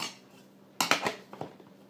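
Metal camping utensils drop into a cook pot holding an Optimus Crux stove, a sharp clattering jangle of several quick metallic hits followed by a few lighter clinks.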